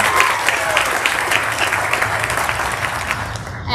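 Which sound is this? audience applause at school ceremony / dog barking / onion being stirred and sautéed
audience applause at school ceremony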